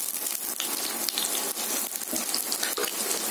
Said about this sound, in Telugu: ఉల్లిపాయలు వేయించుకుని